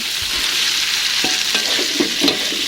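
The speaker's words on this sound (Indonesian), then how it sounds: "di sini langsung aja saya mau taruh tempenya" Tempeh frying in a pan while being stirred for oreg tempe, a steady loud sizzle with occasional scraping knocks of the spatula, close up, with no talk.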